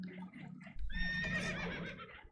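Spooked horses in Red Dead Redemption 2, aboard a damaged boat taking on water, whinny and neigh loudly over low rumbling and faint hoof clatter.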